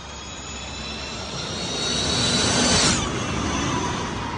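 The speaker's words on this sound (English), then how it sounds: "this is the sound of a MotoE bike." A high-pitched MotoE electric racing motorcycle whine builds as it approaches, peaks loudly while passing close by, then fades away, heard from the trackside, with no voices.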